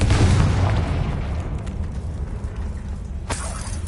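A Confringo blasting spell in Hogwarts Legacy explodes with a heavy, rumbling boom that decays over a couple of seconds, followed by a sharper crackling burst near the end.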